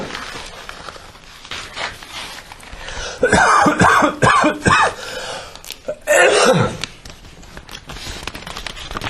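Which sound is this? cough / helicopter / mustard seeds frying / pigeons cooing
cough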